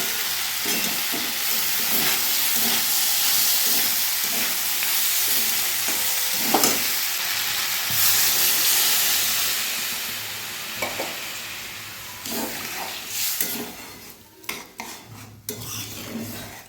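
Potatoes and peas for a curry sizzle and fry steadily in a pan with a constant hiss, while a utensil stirs and scrapes now and then and pots clatter close by. Near the end the frying eases off into scattered clinks.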